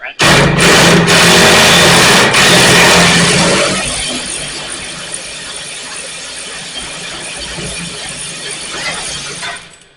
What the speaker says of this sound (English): this little electric ratchet wrench